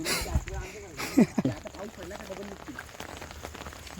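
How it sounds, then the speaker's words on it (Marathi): Light rain patters on a surface under nearby voices and a few brief knocks, outdoors at night during crab hunting. "पावसाला सुरुवात झाली आता परत जोरात"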